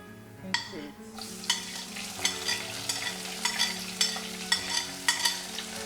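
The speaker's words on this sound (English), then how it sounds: "I'm going to reduce the heat to the lowest and add the remaining onion into it." Onion frying over the lowest heat with steady sizzling, broken by repeated scraping stir strokes at a roughly even pace, close and moderately loud, no voices.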